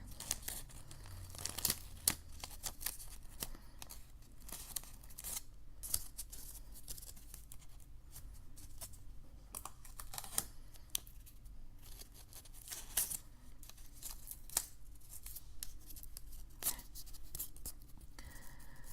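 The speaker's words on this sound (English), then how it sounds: "I'm just going to tape, just going to tape these two sides together" Paper strip being taped end to end, with sharp tape-pulling rips, crinkles and handling rustles in irregular bursts, quiet and close-up, no voices.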